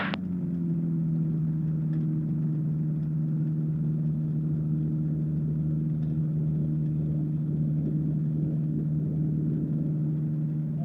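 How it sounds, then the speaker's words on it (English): A warmed-up light aircraft engine runs at a steady, unbroken drone, loud and close, with no voices over it. "At least the engine's warmed up anyway."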